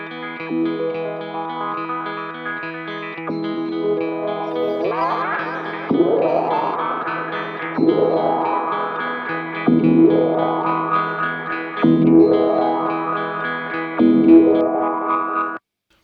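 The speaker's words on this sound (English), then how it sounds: "it wouldn't be the only delay pedal I ever had, but for those weird and wacky noises" Electric guitar through a Cuvave delay pedal producing warbling, pitch-swooping echoes that repeat every couple of seconds over a sustained droning tone, ending abruptly.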